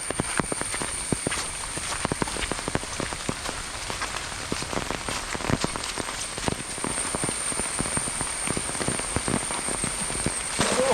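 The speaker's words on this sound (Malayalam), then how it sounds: "നല്ല മഴയാണ്" Heavy rain pours on the ground and nearby surfaces in a steady, dense patter with scattered louder drops, close and continuous throughout during a village net-casting fishing trip.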